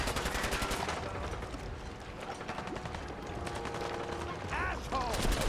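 Raiders exchanging gunfire in Fallout 4, scattered rapid shots and rattling bursts spread across a few seconds, moderately loud, with mechanical clicks and shouted voices underneath.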